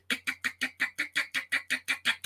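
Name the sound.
imitated car with bad motor pulling off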